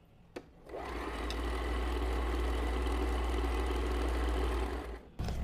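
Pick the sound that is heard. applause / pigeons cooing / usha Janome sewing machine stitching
usha Janome sewing machine stitching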